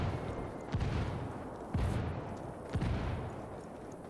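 Mortar fire in the video game Ghost Recon Wildlands, three evenly spaced deep booms about a second apart over a steady background hum of game sound.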